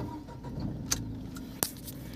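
A Tata Nexon SUV with the key turning and the starter catching, two brief sharp clicks over a low steady engine hum, close by and fairly quiet.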